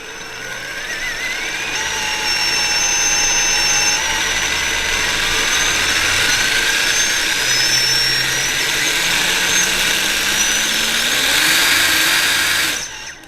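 A 1800 kV RC car motor runs on a 3S battery, a loud steady electric whine with rising and shifting pitch as it spins for over ten seconds, cutting off sharply at the end.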